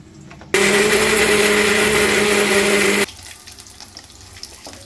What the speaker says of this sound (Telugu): దీన్ని ఇప్పుడు మిక్సీ చేద్దాం.